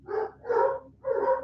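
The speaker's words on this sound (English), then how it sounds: "My son is pulling in and the dogs are going apeshit." Dogs, among them a lab Rottweiler mix, bark and howl excitedly in three loud, drawn-out bursts separated by brief pauses.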